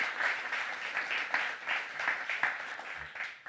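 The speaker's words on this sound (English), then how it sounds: "Please give them a round of applause." A crowd applauding at a distance at a talk event, a steady patter of many hands clapping that fades slightly toward the end.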